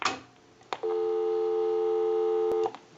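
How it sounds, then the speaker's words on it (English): A repaired and converted 3-slot 236G payphone plays a steady tone in the handset after a couple of clicks, holding loud for nearly two seconds before cutting off with another click. "We'll call my number and it'll be busy."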